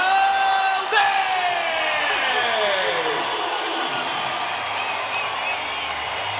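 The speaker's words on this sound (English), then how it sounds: "Listen to the crowd." A boxing arena crowd roars and cheers for Oscar Valdez after his technical knockout win, a loud sustained ovation of whoops and yells filling the space.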